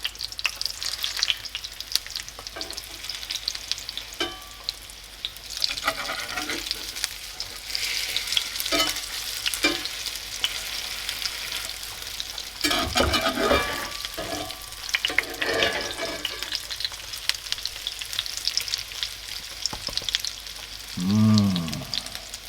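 Food, leftover sausages and mashed potato, sizzles and crackles steadily in a hot cast iron frying pan, with occasional scraping stirs and brief clinks, no voices.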